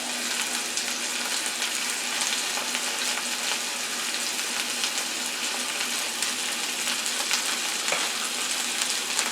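Link sausage fries in a pan for a breakfast omelette, a steady, loud, close sizzle that runs unbroken with no talk.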